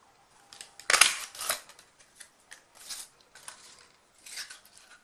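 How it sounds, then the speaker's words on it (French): A handheld paper punch bites tabs out of paper for a small album, giving a sharp crunching snap followed by several lighter rustling clicks, close and quiet. "Je prends donc ma perfo et je vais découper dedans 2 onglets"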